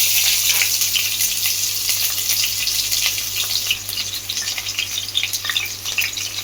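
Green chilies hit about three tablespoons of hot oil in a kadai, giving a steady, close, bright sizzle with continuous crackling and spitting throughout, no voices.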